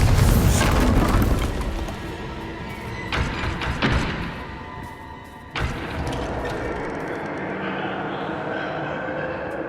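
A Confringo spell in Hogwarts Legacy blasts with a loud booming explosion at the start, followed by further thuds and a rumbling impact later, amid game ambience.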